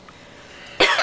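A pet parrot named Sam imitates a human cough, a single loud, near burst at the end after quiet room tone.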